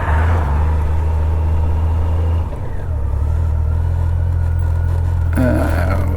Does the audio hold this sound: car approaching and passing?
yes